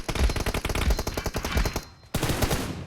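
Rapid automatic gunfire in PUBG Mobile team deathmatch, several bursts of close shots firing in a fast rhythm, cut off by a brief silence and then resuming at full loudness.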